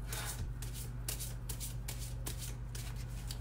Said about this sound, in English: Shuffle the cards though, okay?